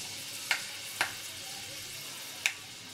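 Fenugreek seeds sizzle softly and steadily in hot oil up close, with three sharp pops and crackles breaking through at irregular moments.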